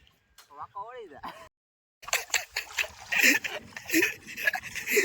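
A person diving headfirst into an outdoor village swimming pool makes a burst of splashing and churning water, preceded by a brief voice and a short silence.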